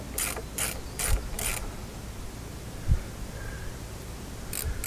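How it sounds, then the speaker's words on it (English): A hand ratchet drives a lag screw into a 6x6 wooden beam, giving bursts of quick clicking strokes at the start and again at the end, separated by quiet, with a couple of soft low knocks in between. "Then I can start my lag screw. Put my ratchet on it."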